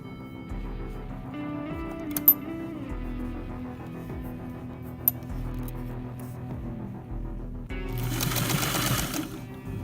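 Sewing machine stitching a druid robe with a long stitch length, a steady mechanical whir running the whole time with a couple of sharp clicks, then a louder, busier burst of stitching near the end.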